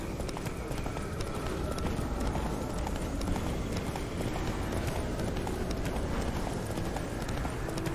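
Horse hooves in The Witcher 3 gallop hard in a fast, unbroken clip-clop rhythm, close and fairly loud, running the whole way through without pause.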